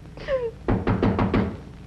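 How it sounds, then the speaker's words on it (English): Four firm, evenly spaced knocks land on a door, close and fairly loud. A brief high tonal sound comes just before them. "Hark! Who knocks?"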